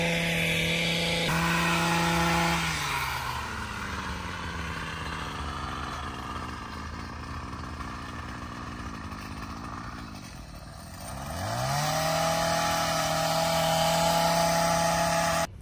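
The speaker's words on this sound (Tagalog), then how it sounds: "Ayun yung nag-grass cutter." A grass cutter's small two-stroke engine drones loudly and steadily outdoors, its pitch dipping as the load increases and then climbing back to a high rev, with no voices heard.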